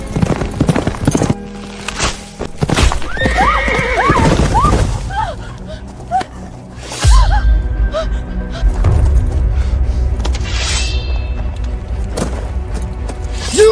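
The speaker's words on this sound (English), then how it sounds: "Fetch me a horse!" A horse neighs loudly while its hooves clip-clop in a galloping rhythm, with a few heavy thuds in a dramatic period scene.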